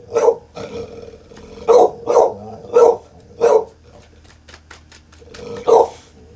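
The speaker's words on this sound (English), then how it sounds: "That's my dog." A dog barks about six times at irregular intervals: sharp, fairly close single barks with short gaps and a low background hum, and no one speaks.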